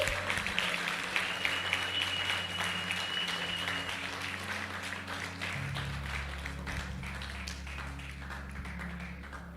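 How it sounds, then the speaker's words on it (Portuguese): Church congregation applauding together at a worship service, a dense stretch of clapping that carries on steadily before fading a little, with sustained music tones underneath. "Uma salva de palmas para Jesus."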